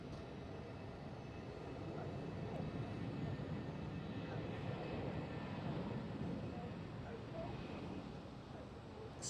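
A Vueling Airbus A320 accelerating down the runway at Amsterdam Schiphol on takeoff, a steady broadband jet roar heard from a distance, sustained and fairly even throughout.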